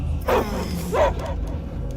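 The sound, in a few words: dog barking in Guardians of the Galaxy video game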